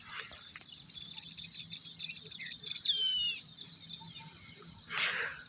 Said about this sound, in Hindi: छोटी छोटी जो चिड़ियाँ हैं, उनकी आवाज़